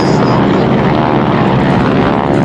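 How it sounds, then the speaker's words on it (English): A North American Harvard warbird flies at the Duxford Air Festival, its piston engine and propeller making a loud, continuous droning roar that fills the whole moment. "This is an aircraft that, as Stu again was saying, is a vital element of today's warbird scene"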